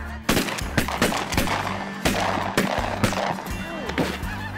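Shotgun blasts ring out during a duck and goose hunt, a rapid volley of sharp, loud reports spaced irregularly over a few seconds with the overlapping rumble of the shots.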